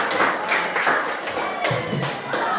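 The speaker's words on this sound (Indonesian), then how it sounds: "Tepuk tangan buat mereka." Classroom applause for student groups after their presentations: a fairly close patter of hand clapping with uneven taps and soft thuds, steady and moderately loud.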